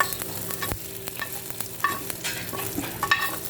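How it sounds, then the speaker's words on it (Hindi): Hot tempering oil (tadka) sizzles as it is poured over an eggplant and potato dish. There is a busy crackling and spitting with clinks and stirring knocks, close and fairly loud. "मैंने फ़िलहाल तड़का लगा दिया"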